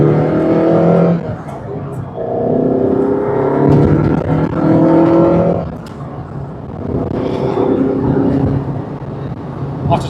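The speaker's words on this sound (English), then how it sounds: "After 20 years, I still love the sound of this car." A Ferrari 308 engine runs loudly and close, rising and falling through several revving surges with a harsh, throaty roar over about ten seconds.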